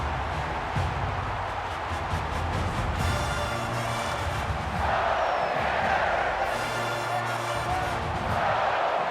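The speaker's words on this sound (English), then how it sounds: "This crowd can really be intimidating for an opposing team." A packed stadium crowd at a college football game in NCAA 14 roars continuously with surging cheers and rhythmic chanting, loud and enveloping throughout.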